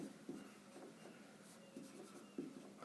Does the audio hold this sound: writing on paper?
yes